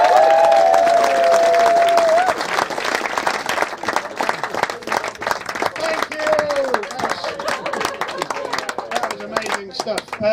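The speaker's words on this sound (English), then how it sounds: "I'd like you to lead the applause for our next act of the evening, Amy Habeska!" Loud audience applause and cheering greet a comedy act at a live comedy night, a dense burst at first that thins into scattered clapping over roughly ten seconds, with crowd voices and whoops mixed in.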